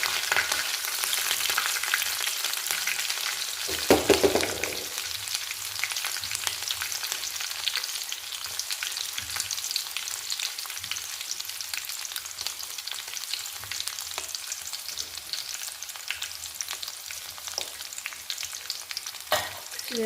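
Chopped green chillies fry in hot oil for a Kerala-style beef pickle, giving a steady, dense sizzle with brief stirring scrapes near the start and no voices.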